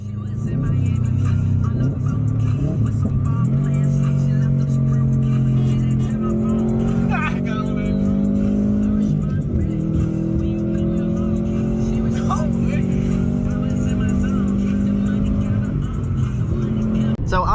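A modified 2017 Subaru WRX STI engine drones loudly and steadily through a race, pitch stepping up through gear changes, with revving harmonics climbing and resetting several times under faint talk.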